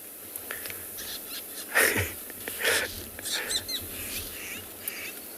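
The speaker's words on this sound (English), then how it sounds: "that's the fork-tailed drongo with all of the guts in the world. It's called mobbing behavior" A fork-tailed drongo calls while mobbing on an afternoon safari in South Africa, giving scattered harsh, wheezy chatters and sharp notes at moderate distance amid outdoor ambience.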